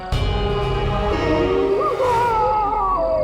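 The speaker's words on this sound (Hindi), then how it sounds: "एक आत्मा की चीख है।" A loud, wavering howl rises and bends in pitch over a few seconds, an eerie wailing cry like a distressed animal or ghostly scream.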